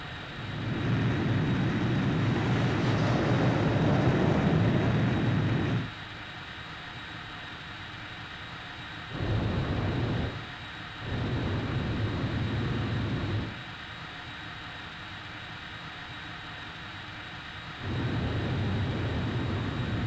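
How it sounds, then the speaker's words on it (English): A fighter jet launches by catapult from an aircraft carrier in Ace Combat 5 from a cockpit view, with a loud, close engine roar that cuts in and out in blocks of heavy rumbling broken by quieter, thinner stretches. "Check catapults. Raise the barriers. Blaze, you are cleared for takeoff."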